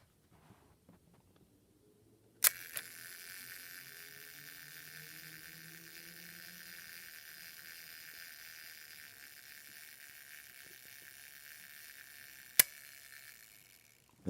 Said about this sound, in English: And then you can release your shutter.